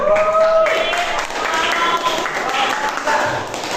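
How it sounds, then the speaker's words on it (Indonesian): Classroom applause from students, a short round of clapping that begins after a tonal sound and carries on beneath voices. "Kasih tepuk tangan"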